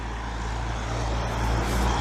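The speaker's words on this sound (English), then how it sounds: "I know that's how a truck's supposed to sound" A truck passes on a Montreal city street, its engine a steady low rumble that swells slightly as it nears, with no talking over it.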